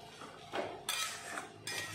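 Pot and utensils clink and scrape as curry is served, with tamarind sour curry of taro stems and fish: three bursts of bright metallic clatter close by, no talk.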